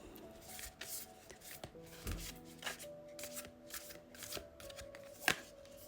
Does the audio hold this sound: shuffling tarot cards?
yes